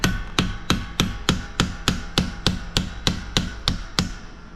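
A socket is hammered to drive a bushing onto a 1980 Camaro seat: about fourteen sharp metallic strikes land in a steady, evenly spaced rhythm, loud and close, with no talking.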